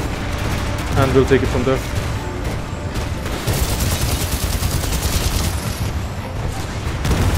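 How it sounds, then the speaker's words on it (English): In the Titanfall 2 video game, a clustered barrage of explosions and gunfire rumbles on continuously, with someone briefly talking over the opening seconds. "That's like a bunch of explosions down there."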